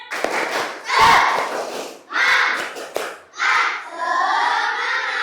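A class of madrasah pupils in Indonesia performs a spirit clapping chant, shouting in unison with hand claps in three loud bursts separated by short pauses, the final stretch a sustained group shout.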